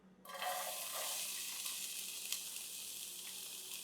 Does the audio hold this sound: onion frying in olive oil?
yes